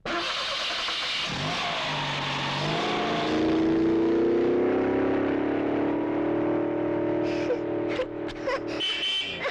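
A car engine starting and revving, its drone rising in pitch as it accelerates and holding loud and steady before breaking into a few short clicks near the end.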